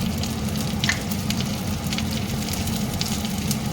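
Onions, capsicum rings and dried chillies fry in a pan with a steady, dense sizzle that holds level throughout, close and fairly loud, with faint scattered crackles on top and no talking.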